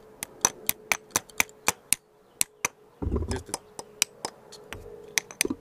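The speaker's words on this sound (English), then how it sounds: "I got my needle nose pliers, and I just grabbed that screw like that and got me a hammer," A small hammer taps needle-nose pliers gripping a screw to pop out a filter on a Yamaha HPDI outboard, sharp close metallic clicks in a quick irregular series with a brief scraping rustle midway, a few words spoken.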